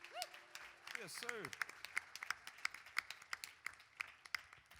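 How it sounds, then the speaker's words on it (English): Sparse, uneven claps from a few people at an outdoor country concert, starting after a short sung or whooped vocal phrase and continuing as scattered, fairly close hand claps. "Clapping for myself"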